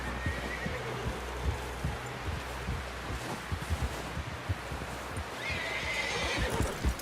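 A horse in the video game Red Dead Redemption 2 whinnies loudly over steady clip-clopping hooves, with rustling and wind in the background, no voices.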